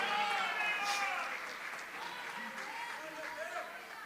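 Church congregation applauding, a steady wash of clapping that starts loud and eases slightly, with a faint voice or two audible beneath it.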